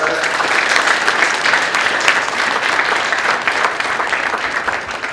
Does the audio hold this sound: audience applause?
yes